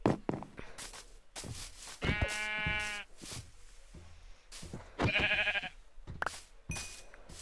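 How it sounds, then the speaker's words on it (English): Sheep in a Minecraft game bleat in a few short, separate calls with quiet gaps between them, fairly close and with no talking over them. "Oh, more sheep."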